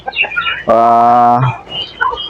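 Native free-range chickens cluck and call nearby, with one loud drawn-out harmonic squawk standing out between shorter, softer clucks.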